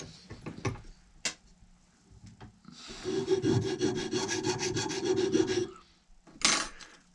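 A hand file rasps over a scroll-sawn wooden Christmas ornament held in a small vise, taking off tool marks. A few scattered taps lead into about three seconds of steady, close, rhythmic filing strokes, then a last knock.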